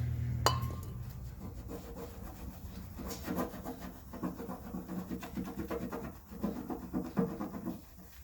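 Brake cleaner wiped across painted bodywork to lift tape glue, heard as soft irregular rubbing and scratching strokes close by, fairly quiet, with no talk.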